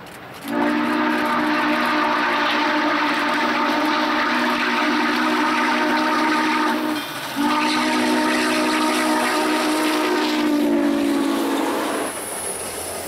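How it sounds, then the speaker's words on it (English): The three-chime whistle of Norfolk & Western steam locomotive 611 blows two long, loud, sustained blasts close by, separated by a short pause. "To warn people of its approach is its iconic 3-chime whistle."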